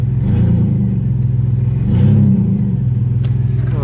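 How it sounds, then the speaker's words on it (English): Engine of a 2000 Chevrolet S10 pickup revved while parked with headlights and hazards on, a loud close idle rumble swelling in one short rev near the middle before settling back. "Do a little bit of a little rev."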